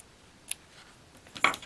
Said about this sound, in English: then trim the ends of the ribbon.